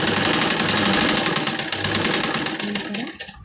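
A sewing machine stitches the edge of a saree, its rapid even mechanical chatter running loud and close without a break before stopping abruptly at the end, with no one speaking.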